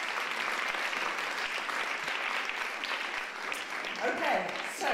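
Warm, steady applause from an audience at a European Mobility Week and SUMP awards ceremony, dense clapping filling the room throughout, with a voice starting to speak near the end.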